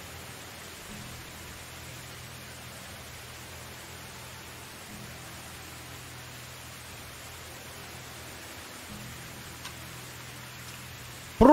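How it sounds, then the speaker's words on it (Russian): Rain falling in Medieval Dynasty, a soft, even hiss of steady rainfall with a faint low drone underneath, constant and quiet, ending in a sudden louder burst. "Ё-моё, как же шумит дождь."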